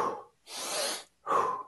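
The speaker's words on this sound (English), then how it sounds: "When we breathe in for longer than we breathe out, it's generally more energy." A person breathes in an energizing pattern: a short breathy exhale, then a long drawn-out inhale lasting about half a second longer, followed by another short forceful exhale, all close and clear with no talking.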